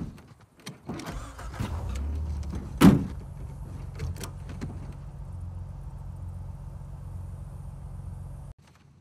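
Vehicle sounds from an Uncharted 4 cutscene: doors thud and clatter, a sharp bang, then a low steady engine rumble carries on before cutting off near the end, with no talk.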